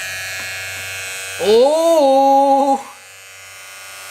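Wahl cordless hair trimmers, including a Detailer Li, switch on and buzz close to the microphone, a bright electric hum lasting just over a second before cutting off, with a brief spoken word beforehand.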